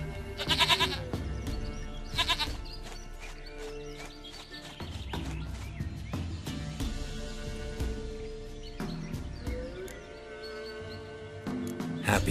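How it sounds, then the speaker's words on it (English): Two close, wavering goat bleats ring out in quick succession at the start in The Witcher 3, followed by another near the end, set against clopping hooves and a low game soundtrack. "Goat of mine, dearest, sweetest goat."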